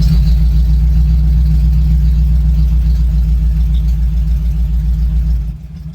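A Ford Ranger with added exhaust pipes idles with a deep, steady low rumble and the lightest touch of throttle, loud and close, holding even for several seconds before dropping off abruptly near the end.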